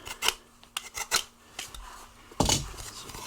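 Knife cutting and scraping material from the back of wooden baseboard trim for a tight inside corner, heard as short rasping strokes in bursts, the closest and loudest stroke near the end.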